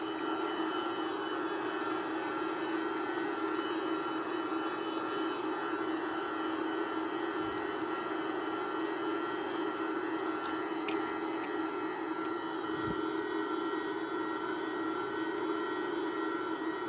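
Jet engines of a Boeing 767-300ER in a flight simulator during climb, a steady, even roar with a constant tonal hum, running alone without any breaks.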